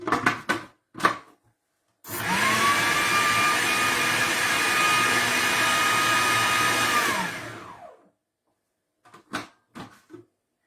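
A food processor whizzes fish cake mixture in one loud, steady burst of about five seconds, with a few knocks and clatters before and after.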